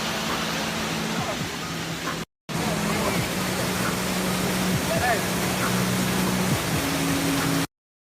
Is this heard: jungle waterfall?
yes